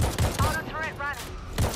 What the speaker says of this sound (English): Auto turret running.